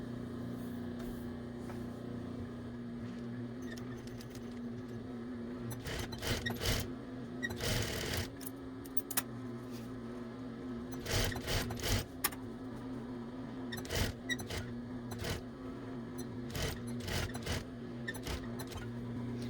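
A sewing machine stitches a folded bias tape hem along the edge of a hooded towel, giving a steady, fairly faint mechanical hum with irregular clicks and rattles over about twenty seconds, with no voices.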